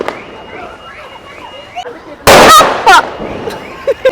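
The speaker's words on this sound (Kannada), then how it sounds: "ಇವಾಗ ತೇಜು ಹೊಡಿತಿದ್ದಾಳೆ ಪಟಾಕಿ." A firecracker bursts during a Deepavali celebration: one loud, close blast of about half a second, then a second sharper pop and a faint later crack, set over outdoor crowd chatter and distant festive noise.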